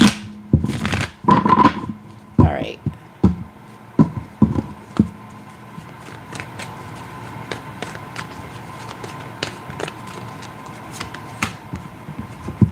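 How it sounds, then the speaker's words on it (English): A tarot card deck is shuffled by hand in a series of quick riffling and tapping bursts, close and crisp, followed by softer scattered card handling; a voice briefly speaks. "Did I shuffle these? I think I did, but let me just do it one more time just to make sure."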